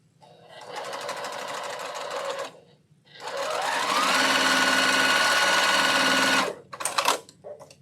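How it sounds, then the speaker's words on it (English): Sewing machine stitching quilt block pieces at a home sewing setup, two steady runs of rapid mechanical whirring, the second longer and slightly faster, followed by a few brief stop-start bursts, close and clear. "And I have more than one sewing machine"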